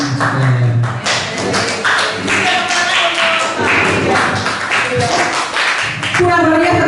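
An audience claps during a school session on positive discipline culture, a continuous patter of hand claps and light taps with voices talking and calling out over it.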